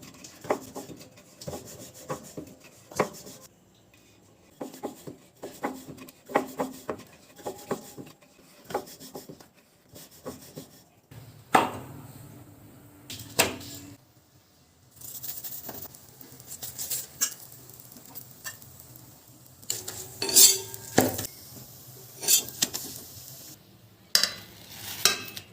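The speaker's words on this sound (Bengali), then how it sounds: "এবার সব এক একটা করে বেলে ভেজে নেব।" Aloo parathas stuffed with spiced potato being rolled out and pan-fried, with soft patting and rubbing taps, then a steady low sizzle in hot oil with scraping turns, close and moderately loud, no talking.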